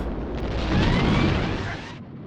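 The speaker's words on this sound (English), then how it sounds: "Oh, that looks like a mine. Oh, holy explosion!" A naval mine detonates in the 1981 James Bond film For Your Eyes Only, sinking a vessel: a loud, sustained explosive roar that swells and rumbles for about two seconds before cutting off.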